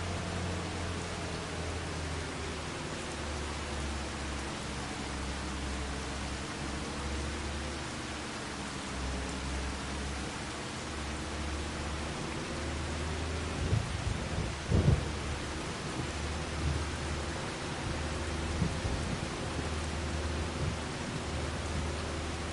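Steady heavy rain hisses without a break in Farming Simulator 25 on PS5, with low rolling thunder rumbling underneath and a louder, crackling thunder peal about two-thirds of the way through.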